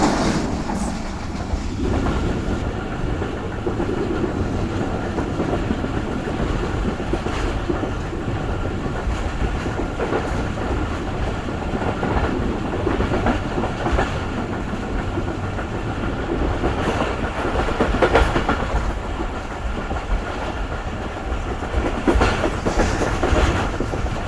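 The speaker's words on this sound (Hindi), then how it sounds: "5:20 पर ट्रेन हमारी अप्रोच बना रही है शादातपुर रेलवे स्टेशन पर" The Rehman Baba Express rolls toward Shahdadpur station with a steady, loud rumble and rhythmic clickety-clack of wheels over rail joints, heard from inside the carriage for the whole stretch without talk.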